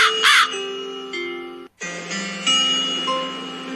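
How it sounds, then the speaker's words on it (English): A cartoon crow lets out a loud, harsh caw at the start of a children's story, followed by sustained chiming, bell-like music tones. "A thirsty crow flew into a village searching for some water to drink."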